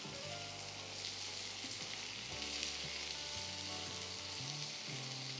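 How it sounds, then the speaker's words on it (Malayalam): Onion, ginger and garlic sautéing in a hot pan, a steady dense sizzle and crackle that runs the whole time without break, close and fairly loud, with no talk. "വെളുത്തുള്ളിയും കൂടെ വഴറ്റിയെടുക്കാം."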